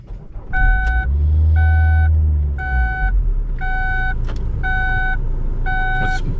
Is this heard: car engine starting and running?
yes